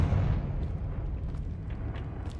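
A Confringo fire spell blasts in a Harry Potter video game, a loud booming burst at the start that trails off into a rumbling, crackling decay with no talk over it.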